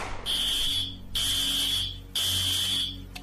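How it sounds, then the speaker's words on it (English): A loud school fire alarm, set off by gunfire smoke, blares in three long, evenly spaced bursts of a harsh, high buzzing tone, with brief gaps between them. "The smoke from the gunfire triggered the fire alarm"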